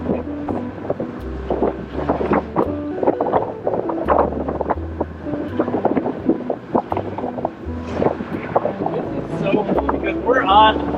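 A boat is out on Yellowstone Lake in Yellowstone National Park. A low engine drone and wind buffeting the microphone run continuously while people talk close by.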